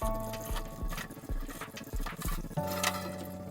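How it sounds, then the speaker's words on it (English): Quinces are washed in water, with close splashing and sloshing, small drips and soft knocks of fruit against the basin in an uneven rhythm. "First wash the quinces."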